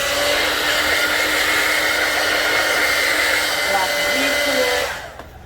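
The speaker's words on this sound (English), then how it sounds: "sometimes that blow dryer will burn a hole in your stocking cap" A blow dryer runs steadily at close range for about five seconds, drying hair over a stocking cap for a lace front quick weave, then cuts off abruptly near the end.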